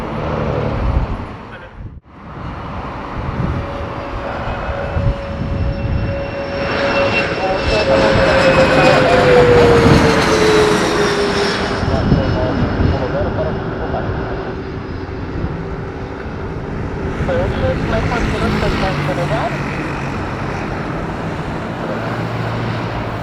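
A Bombardier Challenger 600 business jet roars at Afonso Pena Airport. The loud, sustained engine whine and rumble swells toward the middle of the passage, with faint voices or radio chatter underneath.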